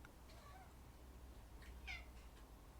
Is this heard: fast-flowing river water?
no